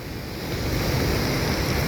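Strong sea waves crash at the Kizhur river mouth in Kasaragod during heavy monsoon rain, making a continuous loud roar of surf mixed with gusting wind.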